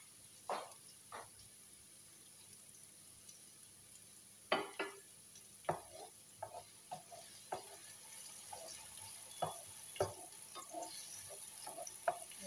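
Onion browning in a pan for a mixed vegetable dish, a steady faint sizzle under repeated clinks and scrapes of a utensil stirring against the pan, with no talking.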